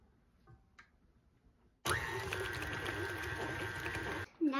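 An electric mixer starts up abruptly and runs steadily at a loud, even whir while mixing cookie dough, then cuts off near the end.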